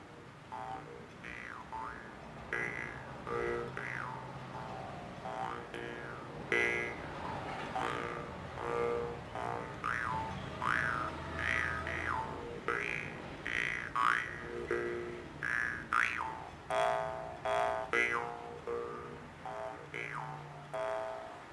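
A homemade khomus jaw harp twangs in a bouncy, buzzing rhythm, its tone bending and warbling with each pluck, played alone and close.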